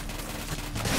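Gunfire in the video game Hatred, a dense, rapid burst of shots forming a continuous loud rattle for about a second, with no voices over it.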